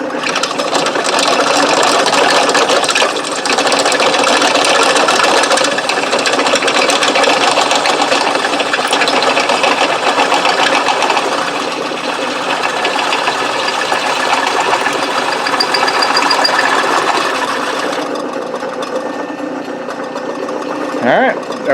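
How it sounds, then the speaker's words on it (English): Power drill boring a hole through metal while building the oil feed system for a used-oil burner, a steady loud whining grind lasting about eighteen seconds before it eases off. "We got the hole drilled in her."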